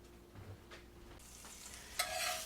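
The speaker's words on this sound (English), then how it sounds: "now I've got some butter in the pan here. Warming my pan up a little bit." Butter warms in a pan on a stove. A faint, soft sizzle rises slowly over a quiet background, with a few light scrapes and a brief brighter crackle near the end.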